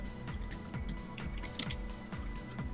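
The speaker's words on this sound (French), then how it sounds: "Et toi tu tapes au clavier pendant un live" Rapid, steady keystrokes on a computer keyboard during a live facecam stream, a close and continuous clatter of clicks with no talking.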